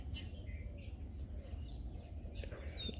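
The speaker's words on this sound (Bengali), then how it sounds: "আর এখন নীরব না পাখি গুলো শুনতে আরও বেশি ভালো লাগছে" Scattered bird chirps and short tweets come from a distance on a foggy village morning, faint and intermittent over a low, steady outdoor rumble.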